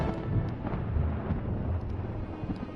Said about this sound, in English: I can faintly hear thunder.